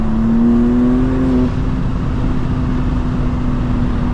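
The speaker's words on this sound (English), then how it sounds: "This car sounds so good." A tuned 2025 BMW M2 pulling hard at speed, its engine holding a loud, steady droning tone that drops slightly in pitch partway through, heard from inside over constant road and wind roar.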